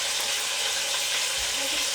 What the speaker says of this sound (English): put the onions direct and the green pepper.